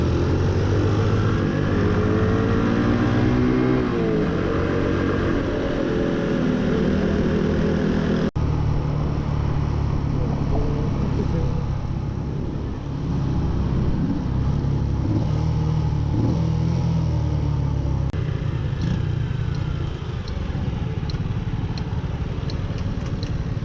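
A Honda Super Cub NBC110 motorcycle engine drones steadily while being ridden on a custom bike build in New Zealand. The engine is loud and close, with shifting engine pitch and wind rush throughout.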